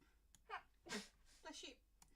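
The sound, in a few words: sneeze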